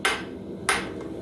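Two sharp hammer blows ring out on hot steel while a hammer head is forged, the second following about half a second after the first, each with a bright metallic clang and short decay over a low background hum.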